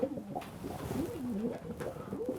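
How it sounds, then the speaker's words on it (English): A placid racing pigeon coos softly and repeatedly in rolling, low warbling phrases, close by against a quiet background with light rustling. "a very placid pigeon."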